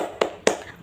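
Two distinct hand claps, close and crisp, spaced evenly as part of a classroom rhythmic clapping routine, tepuk semangat, led during a microteaching lesson.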